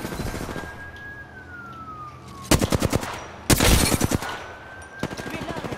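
Repeated bursts of rapid automatic gunfire in the shooter Apex Legends, loud and close, with short pauses between volleys and a steady tone running beneath.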